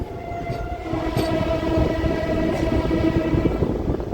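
A DEMU passenger train on the Secunderabad to Siddipet line rolls slowly, giving a loud, steady rumble with sustained whining tones and rhythmic rail clatter.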